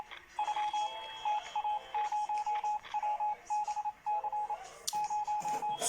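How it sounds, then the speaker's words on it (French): Radio signal tone from the video game 60 Seconds announcing an incoming message: a steady series of short pulsed beeps repeating in evenly spaced bursts, moderately loud and alone. "Ce bruit signifie que la radio va nous parler."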